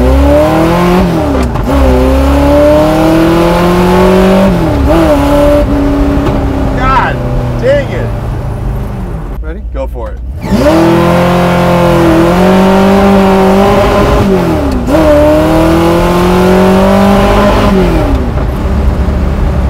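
Custom widebody 600hp De Tomaso Pantera accelerating hard, a loud close engine roaring through rising revs and repeated gear changes with a brief drop near the middle, while people talk over it inside the car.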